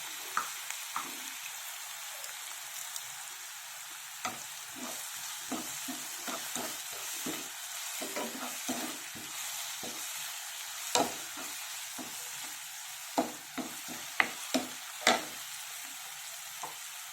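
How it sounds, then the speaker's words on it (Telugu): Mixed vegetables frying in a pan for a mixed veg curry: a steady close sizzle runs throughout, broken by irregular clinks and scrapes of a spoon stirring, with sharper knocks toward the end. "ఇవి ఫ్రై అవుతున్నాయి కదా"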